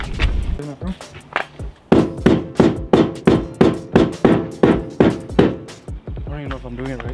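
Hammer blows smashing in the floor tunnel of a Mazda Miata to make room for Braum seats, a steady run of about a dozen heavy, evenly spaced metallic whacks, close and loud.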